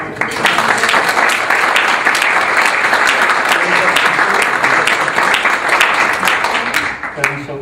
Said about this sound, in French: On met l'applaudissement quand même?